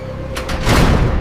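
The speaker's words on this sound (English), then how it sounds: "The loud, metallic clanking of heavy iron doors slamming shut echoed through the cold air." Heavy iron doors slam and clank shut with loud, echoing metallic impacts: a pair of sharp hits, then a heavier rumbling thud, all close and dense.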